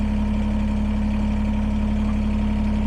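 A Kubota BX23S compact tractor with backhoe idles steadily, its engine putting out a loud, even, low-pitched rumble with a constant drone throughout and no voices.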